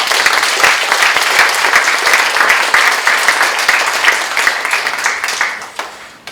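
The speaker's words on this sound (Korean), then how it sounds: "다시 한번 박수." Loud, sustained applause from an audience at the close of an academic lecture on Buddhist philosophy, dense clapping filling the room before thinning out and tapering off toward the end.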